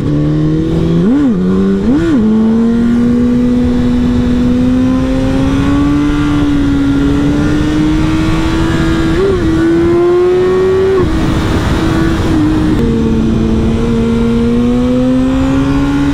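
A BMW S1000R roadster motorcycle engine drones steadily while riding, with a couple of quick rev blips near the start before settling into a sustained, close, continuous engine note.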